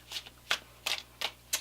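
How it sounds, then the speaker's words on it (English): A tarot card deck riffled by hand in five quick, crisp bursts at a steady rhythm, close up and alone with no voices. "Let's keep shuffling till we pull one."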